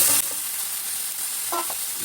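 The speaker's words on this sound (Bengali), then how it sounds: "আলুগুলো ঠিক জলতে দেরি হয়তো ভেজে নেব।" Chicken pieces and potatoes fry with onions and green chilies in a pan for a thin chicken curry, giving a close, even sizzle with a couple of brief scraping stirs.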